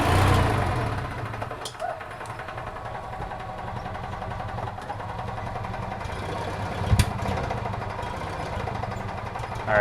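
A 2007 EZ-GO TXT gas golf cart engine runs on both cylinders, giving a close, steady mechanical chugging hum with a few brief knocks and no talk.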